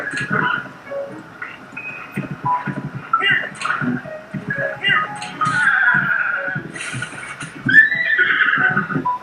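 Horse in Breath of the Wild gives a loud, clear whinny near the end, over a busy bed of game sounds, hoofbeats and faint voices.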